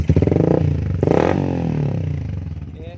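A Yamaha Vixion motorcycle fitted with a WRX aftermarket exhaust revs up sharply, crackling and rasping close by, then drops back and settles into a rough idle.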